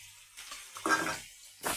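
Garlic drops into hot oil in a pan, a few close sizzling bursts swelling and fading over a couple of seconds, with no voices.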